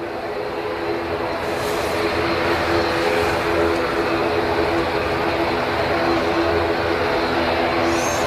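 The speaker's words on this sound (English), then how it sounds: "That was an EasyJet that just came in." An EasyJet airliner arriving at Manchester Airport, a steady broad jet roar holding at full strength throughout with no gaps, heard from close by without any talking.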